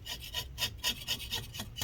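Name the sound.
scraping inside a Lenovo ThinkPad X1 Extreme during disassembly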